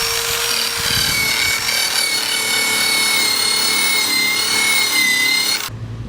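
A power drill with an attachment spins against a car's body to strip off yellow decals, a loud steady whirring grind with a high whine and rubbing scrape, cutting off abruptly near the end.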